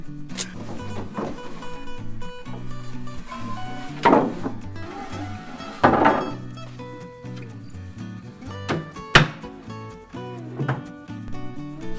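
Slatted wooden sunoko boards fastened with screws while building a traditional hand-cut woodshed, with knocks, screw driving and handling thuds against a busy, resonant background.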